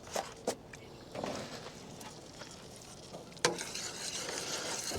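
A thickening milk sauce being stirred in a pan over a camp stove in cold weather outdoors, soft scraping and faint sizzling with a few sharp knocks of the utensil against the pan, up close.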